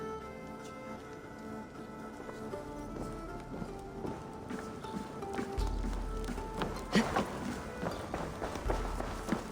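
Horse hooves clip-clop at a walking pace in Assassin's Creed Valhalla, an irregular series of soft, moderately close hoof thuds over a low ambient bed, growing busier toward the end.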